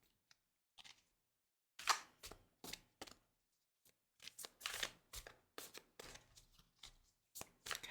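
A divination card deck shuffled by hand in a quiet room, giving a string of short riffling bursts and soft slaps with brief pauses between them, close and crisp, with no talk.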